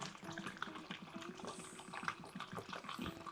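Water poured into a container for brewing a Costa Rican natural coffee, a steady splashing, trickling stream close by that runs the whole time at moderate level, with no talk over it.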